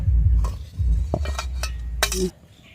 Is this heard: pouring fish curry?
yes